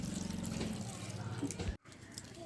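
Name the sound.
pouring water into grinder jar for chutney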